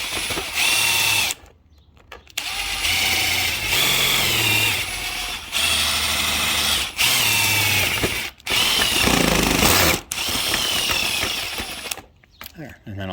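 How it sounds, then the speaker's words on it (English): A power drill bores into the plastic panel of a tow mirror on a 2014 Ford F-150 FX4, running in loud sustained whirring bursts broken by a few short pauses. "You may want to put a drill in the middle"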